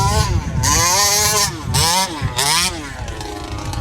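A small gas-powered RC car engine whines loudly nearby, revving up and down in quick repeated surges as it zooms around.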